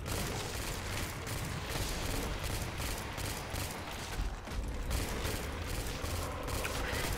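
Dense, continuous gunfire from an M16 rifle in a Call of Duty custom zombies co-op match, with rapid shots and booming impacts blending into a loud, unbroken barrage.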